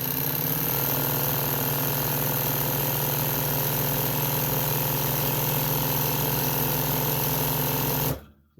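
A Consew 206 RB sewing machine runs at maximum speed, about 2500 rpm, a loud, constant, close mechanical whir that holds steady for several seconds before abruptly stopping.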